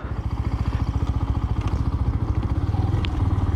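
A Benelli BN 125 motorcycle engine putters at low revs during a U-turn, with a steady, rapid thumping rhythm, close by, rising slightly toward the end.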